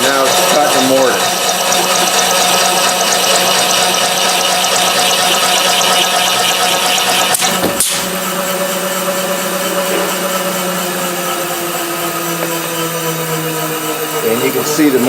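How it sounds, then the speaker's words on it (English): A Bacci woodworking machine cuts a mortise with a loud, steady mechanical whine and grind that runs close and continuous throughout, with a brief sharp break partway through. "I start it up, I have my bridge there, I tap, it presses down, everything's locked in place, and now it's cut and mortise."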